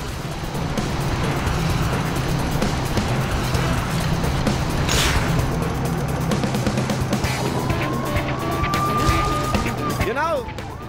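Car driving in the LEGO City Undercover video game, a continuous engine drone with passing traffic noise and a tire squeal near the end, loud and close throughout.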